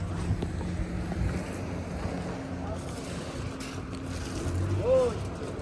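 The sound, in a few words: jet ski (motorcycle boat) on Khanpur Dam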